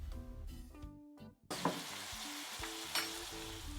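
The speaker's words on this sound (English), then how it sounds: "I am going to be adding some tomato sauce." Tomato sauce hitting a hot frying pan during arroz con pollo, a burst of sizzling that starts about midway and carries on steadily under light background music, with a brief sharper crackle near the end.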